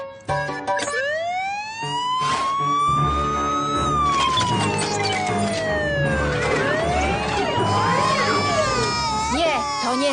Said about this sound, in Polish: syrena